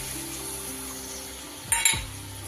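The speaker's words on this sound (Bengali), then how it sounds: "এবার কিন্তু আমি দিয়ে দেব জল" Chicken Manchurian gravy fries in a pan with a low, steady sizzle until water is poured in, setting off a short, louder hissing burst before the cooking noise settles again.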